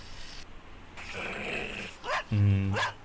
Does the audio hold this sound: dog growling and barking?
yes